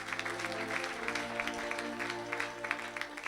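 A church congregation applauds during a sermon, a dense and steady patter of many hands clapping at moderate volume throughout. Faint music tones sustain underneath.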